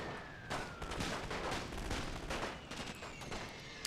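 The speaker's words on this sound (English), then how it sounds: "I think that's machine gun fire over here" Rapid gunfire crackles through a World War I battle in The Great War: Total War mod, dense overlapping shots and bursts at mid distance with tanks in the fight, a steady din across the whole stretch.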